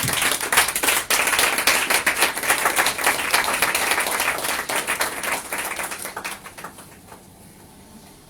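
A church congregation breaks into steady, dense clapping, loud and full for several seconds before thinning and fading toward the close.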